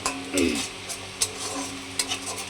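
A spice paste of tomato, cumin and ginger sautés in a pan for a paneer and potato curry, with a soft sizzle under repeated stirring scrapes and a few light clinks of utensil on metal.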